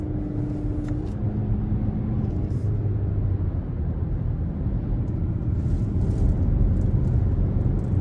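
A 2022 Hyundai Tucson Limited AWD drives in sport mode with the all-wheel-drive lock engaged, its engine and road noise holding a steady low rumble from inside the cabin.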